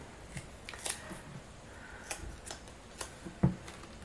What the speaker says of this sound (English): I always struggle with taping up the Tyvek